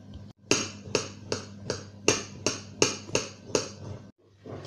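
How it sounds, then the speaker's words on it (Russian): A knife chops halva on a board for a sweet pie. About nine sharp, evenly spaced knocks come close and loud, with no one talking. "Теперь берем халву. И измельчим ее."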